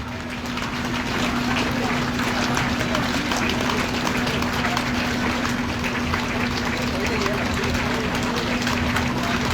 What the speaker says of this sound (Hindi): ताली रुकना नहीं चाहिए, ताली।